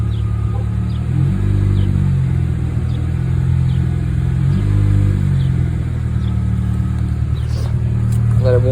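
A Honda Accord engine idles and warms up with a steady low rumble and a couple of mild swells in revs, while a person talks over it.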